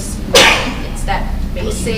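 A single sharp sneeze bursts out near a microphone during a city council meeting, loud and brief, with a speaker talking just before and after it.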